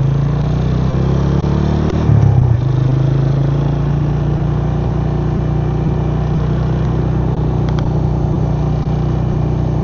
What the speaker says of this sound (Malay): Hari ni kita naik motor LC guys.